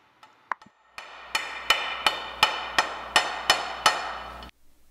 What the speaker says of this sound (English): I'm using a breaker bar and a rubber mallet, and I'm slightly tenderizing the alternator